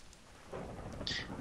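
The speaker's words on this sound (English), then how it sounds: "It's thunder." Thunder rumbles in the Minecraft Better Than Wolves game, a faint low roll building partway through over soft rain-like hiss, with a brief brighter crackle near the end.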